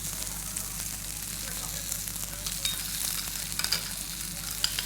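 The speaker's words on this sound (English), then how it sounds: "I'm going to add my wild garlic also to my risotto" Wild garlic leaves stirred into a cooking celeriac risotto in a pan, a soft continuous sizzle and bubbling with scraping stirs and small clicks of the spoon, close and steady.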